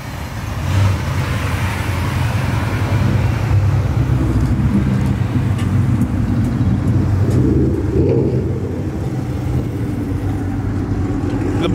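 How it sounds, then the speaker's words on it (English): A single-turbo Camaro ZL1 with its supercharger swapped out rolls into a car meet, a loud, steady engine rumble close by that swells slightly around the middle and continues without talk. "Got a ZL1 rolling in, sounding good."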